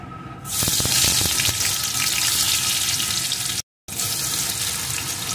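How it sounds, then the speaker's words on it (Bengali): Chopped tomato hits hot oil with tempered spices for a vegetarian okra dish, setting off a loud, close, hissing sizzle that holds steady, cut by a brief dead gap. "টমেটো কুচিটাও একটু ভেজে দেব।"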